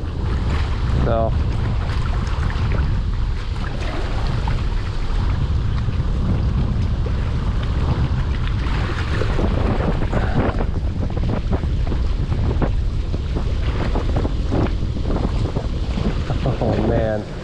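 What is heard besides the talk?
strong wind blowing during a snow storm while fishing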